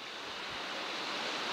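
Waves break at the beach at Calabash Cove in St. Lucia, a steady low surf roar mixed with breezy wind noise and no talking.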